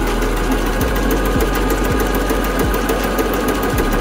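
An engine with sticking pressure valves idles on a test bench with a rough, uneven beat, a steady mechanical drone broken by regular dips and knocks roughly every half second, close and loud.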